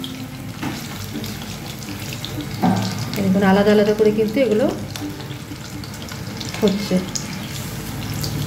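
Chicken pieces for chilli chicken fry in hot oil with a soft steady sizzle, briefly louder as they are turned with a small spoon, while a person talks over it.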